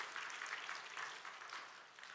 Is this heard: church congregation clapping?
yes